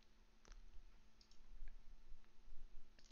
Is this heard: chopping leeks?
no